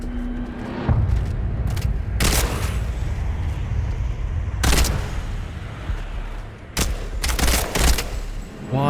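A gun in the horror game Bleak Haven fires several loud, booming shots with pauses between them, and two shots come in quick succession near the end. No one speaks.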